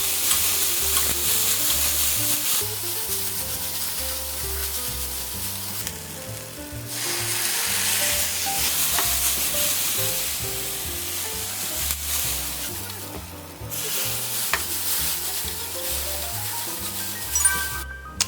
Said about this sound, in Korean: 양파, 당근, 샐러리를 짙은 갈색이 되도록 볶아주시는 게 중요합니다.